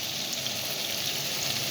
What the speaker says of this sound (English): So I'm frying tomatoes